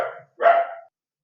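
A dog gives two short barks, the first brief and the second fuller, at moderate loudness and a little distance, then falls silent.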